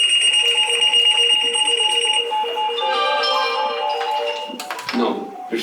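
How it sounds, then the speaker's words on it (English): A fire station dispatch alarm sounds as loud, sustained electronic tones that shift into a run of changing pitches before breaking off into a short jumble of sound. "we've got the same alarm like 9 times"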